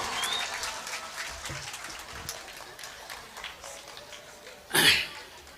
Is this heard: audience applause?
yes